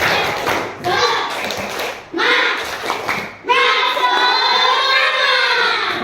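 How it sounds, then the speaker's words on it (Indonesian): Primary school class doing a rhythmic spirit clap in a classroom, with bursts of clapping in a set pattern alongside children chanting and speaking, ending in a longer sustained stretch. "Tepuk semangat."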